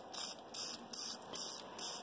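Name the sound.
red spray paint being sprayed on dried flowers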